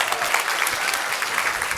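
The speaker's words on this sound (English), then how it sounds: "a big round of applause for Jazz for putting our hand on that." A conference crowd at an opening session breaks into dense, even applause from many hands, loud and continuous, with a faint voice or two mixed in.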